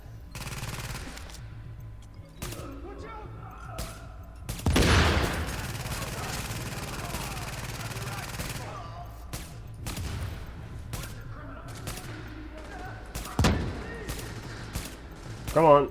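Gunfire in the video game Tom Clancy's The Division, with loud bursts of shots and scattered single reports against a quieter game ambience, and a voice speaking briefly.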